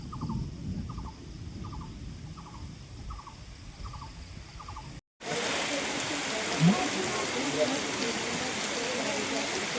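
Heavy rain pours over the dense forest at Unakoti in Tripura during the northeastern monsoon, a steady broadband roar that fills the second half after a brief cut, with faint rhythmic chirping from birds or insects in the first half.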